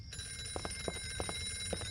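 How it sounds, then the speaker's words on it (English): Steady electronic telephone ringing with sustained high tones inside a horror first-person shooter game, heard over low ambient rumble and faint clicks from gameplay. "I really get the sense that I'm supposed to answer that phone"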